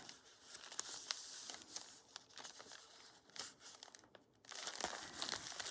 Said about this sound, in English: So I'm gonna fold it aligned.